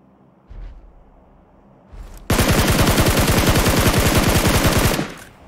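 Gunfire in PUBG Mobile: after a couple of soft thumps, a loud, rapid automatic burst rattles evenly for about two and a half seconds, then stops abruptly.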